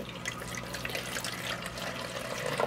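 Apple cider vinegar poured into the bottom of a container for a fungus gnat trap, a close, soft continuous liquid trickle with faint splashing throughout.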